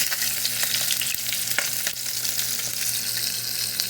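Fish frying in a pan, a steady dense sizzle with crackling pops throughout, close and fairly loud with no talking.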